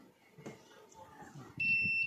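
A faint clatter and handling noise, then a multimeter's continuity buzzer starts a sustained, steady electronic beep that holds to the end.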